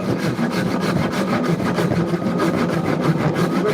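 Hand saw cutting through scrap wood on a wooden bench for a mallet, with rapid, rhythmic back-and-forth rasping strokes, close and steady, with no talk.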